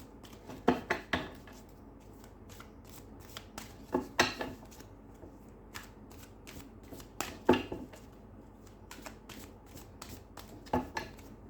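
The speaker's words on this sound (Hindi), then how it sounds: "चलिए मैं इसमें से कार्ड निकालती हूँ।" Tarot cards being shuffled and drawn by hand: a series of brisk riffling and slapping bursts, close and fairly quiet, separated by short pauses, with no talking.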